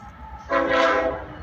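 A northbound freight train of autoracks sounds a loud, sustained horn blast as it rushes downhill past a green signal, close and clear with no voices.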